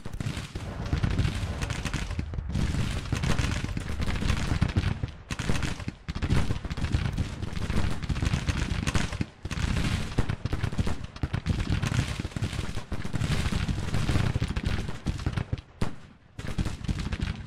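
Cannon and musket fire from the Civil War strategy game Grand Tactician: The Civil War rolls on almost without pause, loud volleys and booming reports layered densely, broken only by brief dips.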